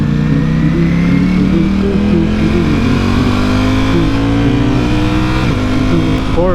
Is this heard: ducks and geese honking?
no